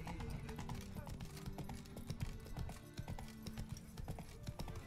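Horse hooves clopping at a steady trot through town streets in The Witcher 3, a quick continuous rhythm under background music and ambience.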